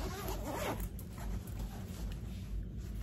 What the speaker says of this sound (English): This front zipper opens all the way up.